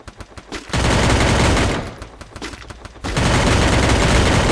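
Gunfire and headshots in the video game Free Fire: a few scattered shots, then two long loud bursts of rapid automatic fire separated by a brief lull of lighter shooting.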